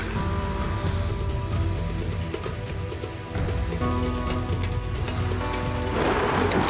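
Steady rain from a storm pours down with a dense, continuous hiss, a fuller rush swelling near the end, with no talking.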